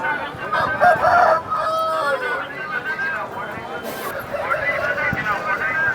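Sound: rooster crowing at poultry market

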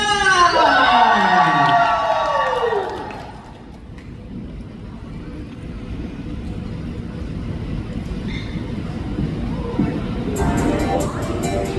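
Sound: crowd screaming and cheering

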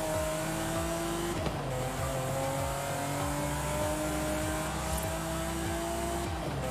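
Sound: Ferrari 512 TR engine in video game Forza Horizon 5

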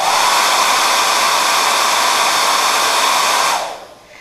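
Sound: hairdryer blowing air

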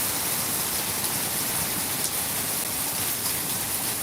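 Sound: heavy rain

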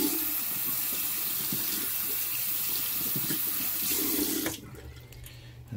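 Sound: tap water rinsing a resin print

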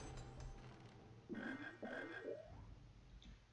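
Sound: frogs croaking in Harry Potter and the Chamber of Secrets video game

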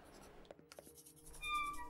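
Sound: quill pen scratching letters on old paper, Pocket Mirror video game

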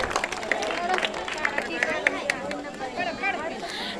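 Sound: audience clapping for prize winner

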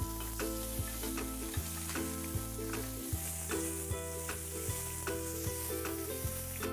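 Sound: mahimahi fish sizzling in a hot pan after flipping

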